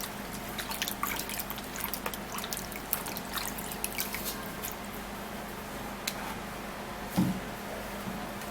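Water dripping and trickling while ingredients for a drink are rinsed, with soft irregular drips and splashes over a steady quiet background.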